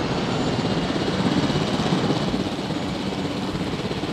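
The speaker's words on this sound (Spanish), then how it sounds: "Voy a intentar ir con el helicóptero y vamos a dormir al Ankylosaurus ese" A helicopter in a dinosaur video game flies with a steady, loud rotor drone and engine whine that holds evenly throughout, no speech over it.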